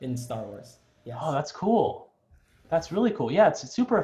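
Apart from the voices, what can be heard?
No distinct noise like a dog, phone or traffic.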